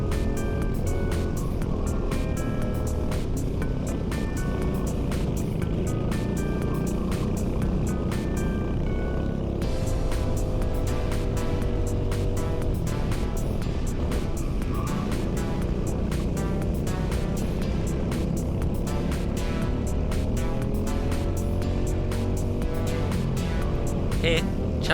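Racing kart engines on a hill circuit in the Welsh hills, a loud, steady, buzzing drone close by that rises and falls with the throttle throughout, with no talk.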